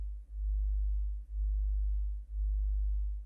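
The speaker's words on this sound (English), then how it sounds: "If we put the other sine wave just 1 hertz above this sine wave, that means we have different frequencies." Two pure low sine wave tones set 1 hertz apart, beating against each other as a steady hum that swells and dips about once a second, three clear pulses.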